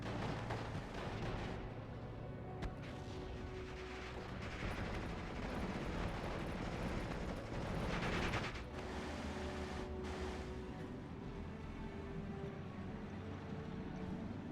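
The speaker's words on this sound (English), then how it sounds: "Rocket artillery from both sides." A rocket artillery barrage in the World War II strategy game Steel Division 44 rumbles on continuously, with dense overlapping launches and explosions forming a loud, steady roar with occasional sharper blasts throughout.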